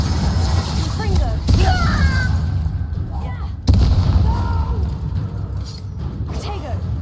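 A Confringo fire spell blasts during Hogwarts Legacy combat, a sharp explosive burst among gunfire-like bangs and rumbling, with talk running throughout.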